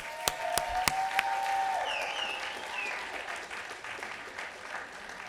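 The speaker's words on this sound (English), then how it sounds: "let's give him a round of applause." Warm applause from an audience at a 2019 recovery summit awards event, steady clapping throughout with a few sharp knocks at the start and a whistle-like tone rising over it.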